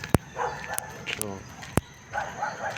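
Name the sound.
dog barking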